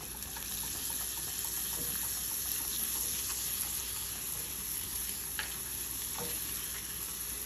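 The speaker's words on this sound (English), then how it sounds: "once the butter is melted down and bubbling up, so we're gonna toss in our garlic" Garlic and black and white pepper sizzling and frying in melted, bubbling butter for chicken wings, a steady dense crackle with occasional stirring clinks, close and continuous without talk.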